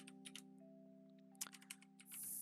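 Quiet clicks of a computer keyboard come in short clusters, a few keystrokes at a time over a steady electronic hum, alone without talk.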